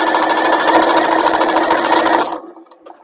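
Sewing machine stitching a bag along a straight seam, a loud, steady close-up whir that runs continuously, then stops abruptly, leaving faint handling noise.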